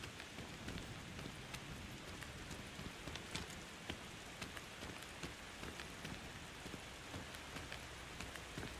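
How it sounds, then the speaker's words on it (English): Steady rain patters throughout a scene in the video game Daymare 1998, a dense, even hiss of drops on surfaces with scattered sharper taps, continuous and fairly close with no voices over it. "Ah, the pitter-patter of rain."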